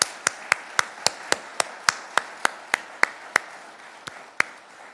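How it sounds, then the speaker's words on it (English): Applause for newly sworn-in police officers comes across as sparse, evenly spaced sharp claps, about three per second, close and distinct, thinning out toward the end rather than forming a full crowd wash. "So let's give them one more round of applause."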